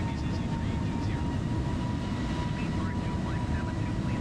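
An EasyJet A320neo in Microsoft Flight Simulator 2020 gives a steady, loud jet and airflow drone that stays constant, with a low rumble underneath and faint higher tonal whines.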